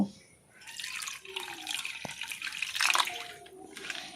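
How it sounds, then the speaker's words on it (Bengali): Grated coconut being squeezed and kneaded by hand in water to press out coconut milk, giving a steady wet squelching and splashing that runs on continuously and sits close. "এবার এই নারকেলটাকে জল দিয়ে খুব ভালো করে একটু চটকে নেব।"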